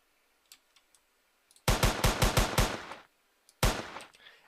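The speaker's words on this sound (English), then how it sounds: "Let's use the AK. I like a good old AK-47." AK-47 gunfire in a Minecraft mod, heard as a rapid burst of about eight sharp, loud shots, then a pause and one more shot, with a few faint clicks before the burst.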